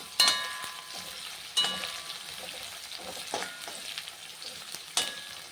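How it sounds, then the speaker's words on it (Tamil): Shredded cabbage sautéing in a pan for a Chettinad-style poriyal, with a steady sizzle and a few sharp scraping stirs of a spoon against the pan. No talk. "நல்லா கொஞ்சம் கோல்டன் கலரில் நல்லா வதங்கணும்"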